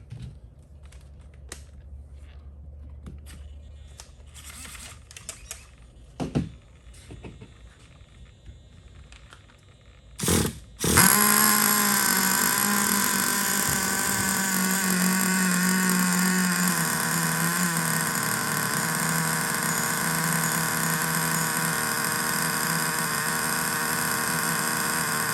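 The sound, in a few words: Freevo Revo engine starting and running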